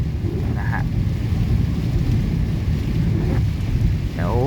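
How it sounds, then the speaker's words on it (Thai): Very heavy rain pours down outdoors in Bangkok, a dense, loud, steady roar close by that holds unbroken throughout, with a few faint chirps and rustles on top. "ฝนตกแรงมากตอนนี้ โอ้ ตกลงมาอย่างแรงเลยครับผม"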